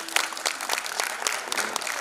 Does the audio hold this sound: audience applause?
yes